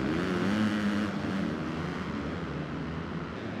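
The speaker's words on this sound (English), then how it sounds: "All bikes at the starting line here. They're revving up. And the gate's down," Dirt bike engines from the Supercross 2 video game rev together at the supercross starting gate, a dense, steady engine drone that stays loud throughout with a slight dip partway.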